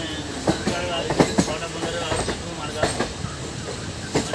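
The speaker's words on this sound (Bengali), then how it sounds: "আর জোরে যদি যায় ট্রেন একদম সোজা উপরে চলে যাবে" A mountain train runs on rails toward a hilltop through a series of tunnels, giving a steady rumble broken by rhythmic clacks and knocks from the wheels, heard close and continuous.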